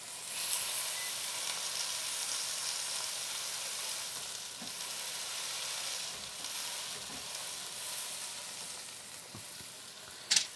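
Vegan food fries in a hot pan while pressed flat under a second pan, giving a steady, even sizzle that holds at moderate level throughout, with a faint clink near the end and no talk.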